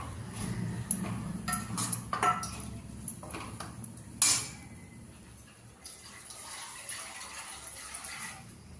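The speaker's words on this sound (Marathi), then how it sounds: "आता थोडंसं पाणी घालणार आहे" Water poured into a pan of cooked taro leaf (aluchi bhaji) mixed vegetable, with a steady wash of pouring and splashing under a low hum, and a few brief clinks of utensils against the pan.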